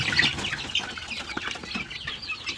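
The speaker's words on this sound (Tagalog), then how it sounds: "Merong white leghorn na nakakross sa Rhode Island Red, merong black australorp, merong barred rock, merong abuhin, at saka merong native na dalawang piraso." Backyard chickens cluck nearby, a mix of white leghorn crossed with Rhode Island Red, black australorp, barred rock and native birds. There are continuous overlapping clucks and squawks and a brief flutter of wings, with no talk.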